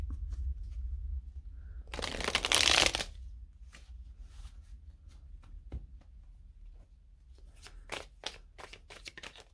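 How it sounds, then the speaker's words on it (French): A deck of tarot cards is shuffled up close: a loud burst of riffling flutter for about a second, then quieter scattered card slaps and taps, with a faster patter of crisp flicks near the end. "depuis que je mélange ce jeu"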